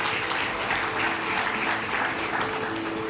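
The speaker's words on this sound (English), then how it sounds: "Kindly give them a big round of applause." An audience at a school annual general body meeting applauds parents, a steady, dense patter of many hands filling the hall with a faint tone humming beneath.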